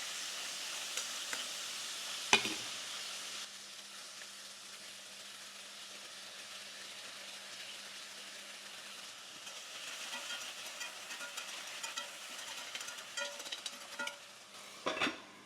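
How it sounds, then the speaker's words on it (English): Broccoli stalks and ochro leaves sauté in a pan with a steady, soft sizzling hiss, broken by a sharp clatter near the start and a few utensil knocks toward the end; no one speaks. "I'm just gonna leave that to saute for a few minutes."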